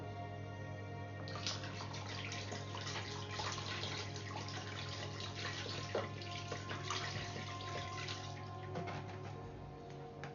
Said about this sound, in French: vous prenez encore le reste de l'eau, de source que vous avez, vous mettez dedans